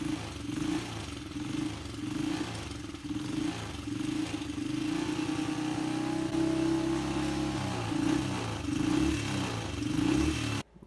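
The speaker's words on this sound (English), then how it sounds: "and then I'm going to give her a run." A rebuilt Honda XR70/CRF70 small single-cylinder motorcycle engine starts and runs continuously, a close rough idle with steady clattering pulses and some light revving throughout.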